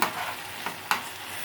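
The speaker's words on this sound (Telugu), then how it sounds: "చూసారా ఫ్రెండ్స్, నూనెలో అలా మగ్గుతాయి." Eggplants fry in hot oil with a steady close sizzle and a few sharp stirring clicks from a spoon, with no talking.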